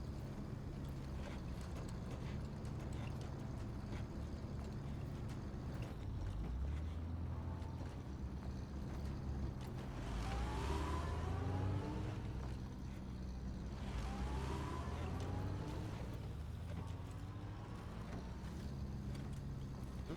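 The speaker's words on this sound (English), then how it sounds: "I just let off the gas a little bit and it's like it immediately goes. I guess it's downshifting." A truck in the SnowRunner off-road game churns through terrain, its engine drone rising and dropping as it downshifts, with gear whines sweeping up and down twice in the middle stretch under a rumbling low end.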